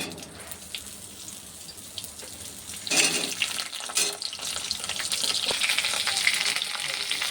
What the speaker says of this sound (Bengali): পটলটা আগে দিয়ে একটু নাড়িয়ে দিয়ে আলুটা দিয়ে দিয়েছি